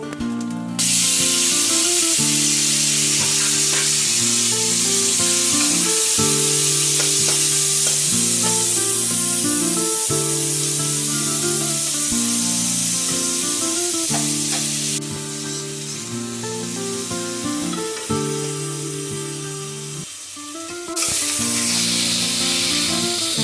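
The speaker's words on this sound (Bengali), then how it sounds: "এরপরে চিংড়ি মাছগুলো ভেজে নেব।" Prawns fry in oil in a wok, producing a continuous sizzling hiss with occasional spatters, heard beneath steady background music for the whole stretch.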